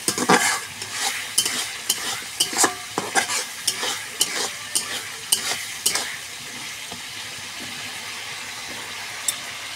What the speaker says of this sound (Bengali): কষানো হয়ে গেছে, এবার এর মধ্যে আলু পটলটা দিয়ে দেবো।